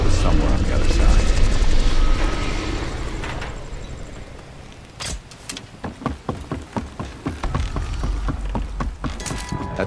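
A helicopter in the Call of Duty Black Ops Cold War video game whirs amid mechanical noise, then rhythmic rotor-like chopping pulses grow more distinct in the second half, with voices talking over the scene.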